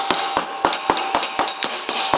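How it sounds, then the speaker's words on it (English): A hammer strikes sheet metal, rolling over an edge for a taillight housing on a 1974 AWD Charger, in a steady series of about nine sharp ringing taps, close and fairly loud. "we can just line up with that edge and roll it over using a hammer"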